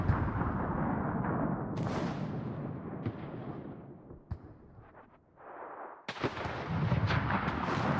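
Naval guns aboard a warship fire at an enemy ship in a video game, a dense run of heavy booms and cracking bursts close by, with a short lull before a fresh loud salvo near the end.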